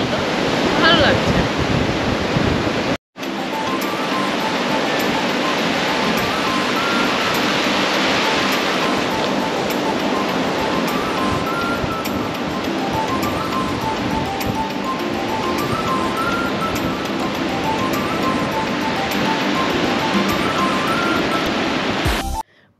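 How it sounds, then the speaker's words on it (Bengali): Ocean surf at Mandarmani beach, a sea with typically small waves, washes in a steady broad roar mixed with wind buffeting the microphone, continuous and close, with a brief dropout near the start and no clear talk. "ঢেউ অল্প, মন্দারমণিতে ঢেউ কমই থাকে সাধারণত"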